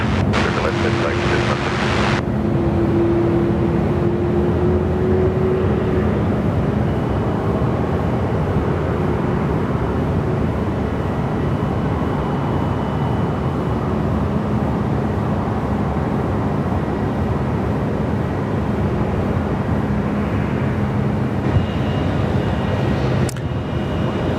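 Airliner taking off from runway 34 left at Sydney Airport, a steady loud jet roar filling the whole stretch, with a distant tone drifting in the background and faint radio chatter underneath.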